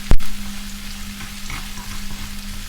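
Stir-fried noodles sizzle in a hot pan as they are stirred, opening with a sharp clank of the utensil, then a steady crackling fry with soft scraping and no talk.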